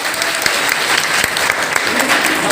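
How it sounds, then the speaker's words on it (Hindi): Audience applause at a magic show, a steady dense wash of clapping hands sustained for the whole stretch with a few sharper claps standing out. "तालियां बजाएंगे"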